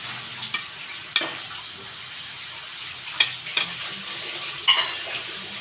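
Peas being stirred into chicken fried rice in a hot pan: a soft, continuous sizzle punctuated by a few sharp spatula scrapes and clacks against the metal, with no voices.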